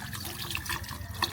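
Water runs steadily from a tap for hand washing at a cooking spot while travelling, a soft continuous splash and trickle close by with no talk.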